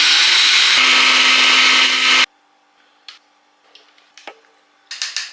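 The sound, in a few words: blender blending blanched herbs with oil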